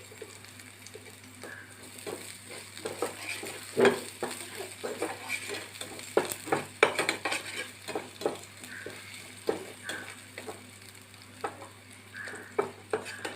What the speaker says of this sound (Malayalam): ചെറുതായിട്ട് അരിഞ്ഞ വെളുത്തുള്ളി ഇഞ്ചി ചേർത്ത് കൊടുക്കുക നല്ലപോലെ മൂപ്പിച്ചെടുക്കുക